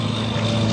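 A T-28 trainer aircraft's radial engine, with exhaust split four cylinders to one side and five to the other, gives a continuous rough, throbbing drone, heard briefly and fairly loud at an airshow.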